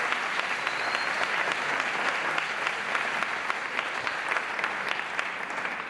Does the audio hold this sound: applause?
yes